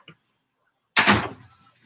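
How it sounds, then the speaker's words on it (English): A door opens with a sudden loud clunk and rattle, then a short fading scrape, after a brief small knock and near silence. "opening the door"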